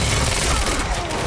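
Dense, continuous gunfire from the video game Quantum Break, a loud barrage of overlapping shots filling the whole short moment with no pauses.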